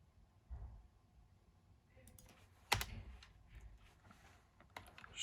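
Login details typed on a computer keyboard for a minibus booking system, a quiet patter of key clicks with a sharper tap near the middle, soft and close.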